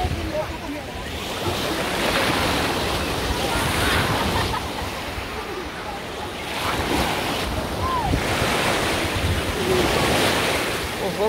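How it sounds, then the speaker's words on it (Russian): Sea waves wash steadily onto a beach in a warm bay, a loud continuous surf roar swelling in slow surges and mixed with wind buffeting the microphone. "Слышите, да, как море шумит?"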